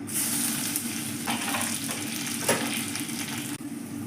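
Fenugreek, mustard seeds and curry leaves crackle and fry in hot oil, a steady close sizzle with brief louder pops and spatters throughout.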